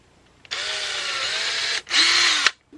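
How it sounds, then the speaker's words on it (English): A power drill bores a small pilot hole during a solar power electronics installation, whining loudly and steadily in two close bursts, a long run followed by a shorter one after a brief pause. "I'm going to take my drill and just do a little pre-drill hole right up here"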